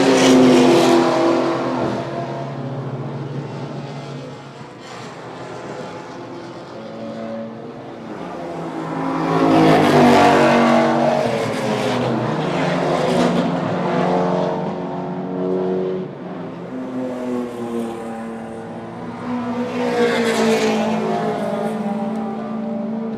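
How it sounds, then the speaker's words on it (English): A Mercedes-Benz C63 V8 race car on a racing circuit, its engine roaring and revving loudly as it accelerates, swelling and fading with passes over about twenty seconds, with no talk. "being pursued right at the moment by the Boss Security Mercedes-Benz C63 V8, the big bad Benz of James"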